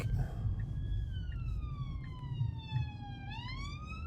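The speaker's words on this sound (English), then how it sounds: "It wouldn't have pulled over for the police car." A police siren wails on a UK road, its pitch sliding down slowly then jumping back up, over a low rumbling engine hum.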